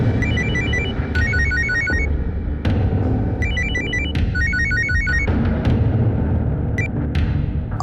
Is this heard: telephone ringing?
yes